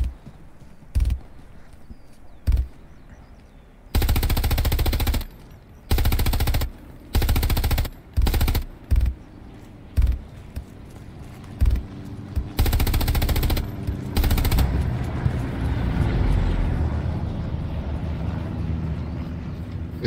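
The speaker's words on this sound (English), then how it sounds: "Okay, MG deployed. I'm watching for targets." A deployed machine gun in the World War II shooter Hell Let Loose fires in short and long bursts, loud and close, with pauses between them and a rumbling echo trailing off after the final volley.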